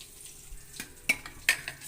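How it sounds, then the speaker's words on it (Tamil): Sliced snake gourd and two potatoes, seasoned with masala, start frying in oil. A faint, soft sizzle runs underneath, and a few sharp clinks and scrapes of a utensil stand out near the end. No one speaks. "இப்போ பொடலங்காவும் 2 உருளைக்கிழங்கும் போட்டு இதை எண்ணெயில் கொஞ்ச நேரம் விட்டு காய விடுவோம்"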